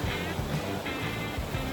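Water churns and splashes loudly as a vehicle fords a shallow, muddy brown river near a camping area in Tanay, a continuous rushing wash with rhythmic surges and low rumbling underneath.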